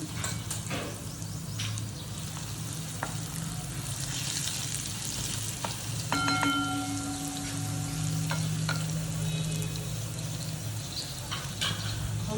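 Crushed garlic sizzles steadily in hot oil for a rajma curry, a continuous frying hiss with occasional stirring scrapes, fairly close and with no talking.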